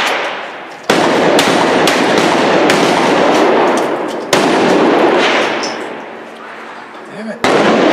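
Tactical 12-gauge shotgun shots at a range, a few loud sharp blasts at irregular intervals, each followed by a booming decay; people talk between shots.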